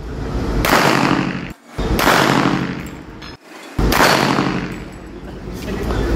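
Shots from an Armscor TAC Ultra .45 pistol at an outdoor military engineering firing range: three loud, sharp reports, each followed by a long ringing decay, spaced about two seconds apart.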